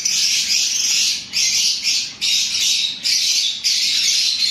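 Male pet bird in an aviary squawking repeatedly in harsh, loud, close bursts, about five calls with short gaps between them.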